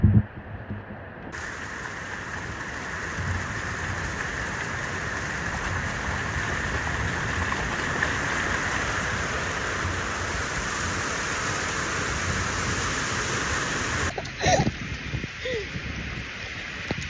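Steady rain pours outdoors on a muddy work site, a dense continuous hiss with a few brief disturbances near the end.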